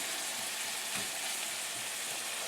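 Finely ground lamb fries in a pan with a steady, bright sizzle and occasional stirring, close and continuous with no talking.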